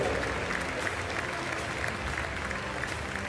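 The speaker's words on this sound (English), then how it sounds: "Le cavalier irlandais qui entend déjà vos applaudissements venir des tribunes" Spectators in the stands at a show-jumping grand prix in Lyon applaud, a dense, steady wash of clapping from a large crowd, with an announcer talking over it.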